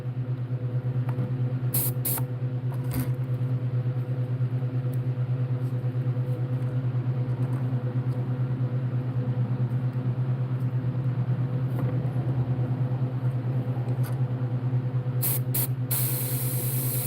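An airbrush sprays paint in a steady, close hiss with a low continuous compressor-like hum underneath, unbroken for the whole stretch, with a few brief sharper bursts near the start and end.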